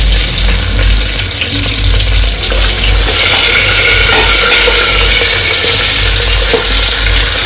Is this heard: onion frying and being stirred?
yes